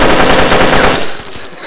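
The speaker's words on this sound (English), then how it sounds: "Guys, gunshots, near me." Rapid, dense gunfire from the DayZ video game rattles loudly and continuously for about a second, then fades into quieter tails.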